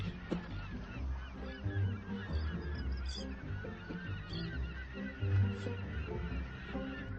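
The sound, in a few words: flock of pelicans at a saltwater lake in the Australian outback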